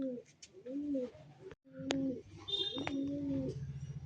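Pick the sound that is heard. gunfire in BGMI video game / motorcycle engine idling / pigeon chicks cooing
pigeon chicks cooing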